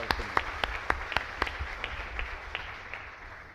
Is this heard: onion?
no